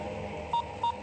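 A telephone ringback tone for an unanswered call gives two short, identical electronic beeps at an even interval, clear and close.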